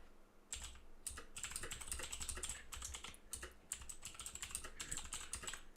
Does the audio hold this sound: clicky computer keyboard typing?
yes